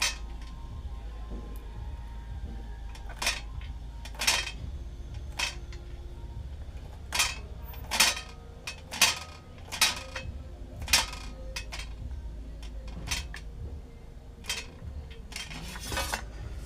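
A knife chops wild bean pods (kudyachya shenga) into small pieces. Crisp taps on the board come in an uneven series, some clustered and a few louder, with a quiet background hum and no talking.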